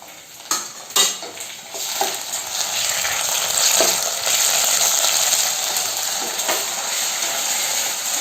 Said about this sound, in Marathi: आलं लसूणची पेस्ट चांगली फ्राय झाली आहे